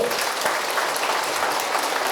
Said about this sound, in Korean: 이 큰 박수 소리를 우리가 다 가슴에 담고